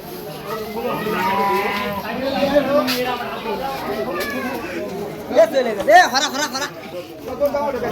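Sacrificial cattle low in a village on Eid day, with drawn-out moos rising among a crowd of people chattering nearby, all fairly close and busy.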